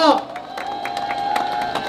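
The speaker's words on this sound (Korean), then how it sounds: "우리 장동혁 부부에게 뜨거운 박수 부탁드리겠습니다" Outdoors at a Korean by-election campaign rally, a crowd claps and cheers for a parliamentary candidate and his wife, a brief burst of applause and shouts with amplified voices over it.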